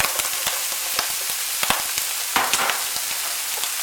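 Bacon, onion and capsicum sizzling in butter in a pan, a steady close crackling fry with frequent small pops and stirring clicks throughout, no voices.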